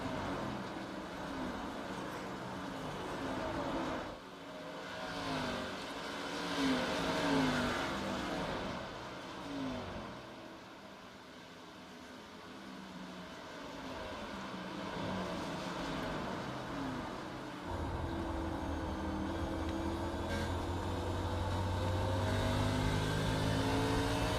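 Stock-car race engines in the iRacing video game at a Grand National Series race, a continuous droning roar with rising and falling revs as multiple cars circle, steady and moderately loud throughout.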